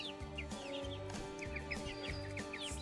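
Meat chickens around week six, fully feathered, cluck steadily and close by in a barnyard, with repeated soft calls and chirps layered over a constant low background hum.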